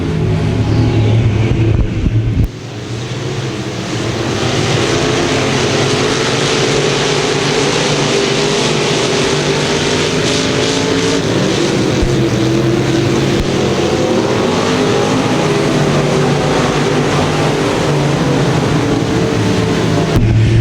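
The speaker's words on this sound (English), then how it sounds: "A lot of fast cars in this heat race. Heat number 2 of your IMCA Modifieds." IMCA Modified race cars roar through a heat race at Thunder Hill, a loud, continuous wall of engine noise from several cars close by with layered revving and no talk.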